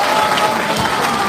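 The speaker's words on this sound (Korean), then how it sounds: "박수로 환영해주시기" Audience in a large conference hall at the National Assembly members' office building applauding to welcome a lawmaker, a dense, even burst of clapping close and loud throughout.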